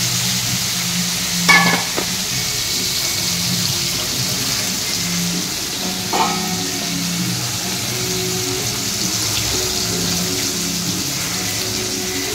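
Prawns fry in a pan with a steady loud sizzle throughout, broken by a couple of sharp clinks of utensils against the pan.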